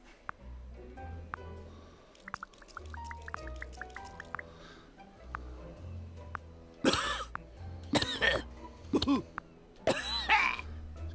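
A character in the video game Manual Samuel coughs in several loud, harsh bursts near the end, preceded by quieter game sounds with drips and squishy noises.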